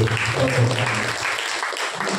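A church congregation at an all-night prayer meeting claps hands together in a brief, dense burst of applause, with a voice audible alongside.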